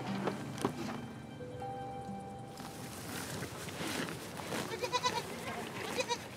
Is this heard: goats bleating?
yes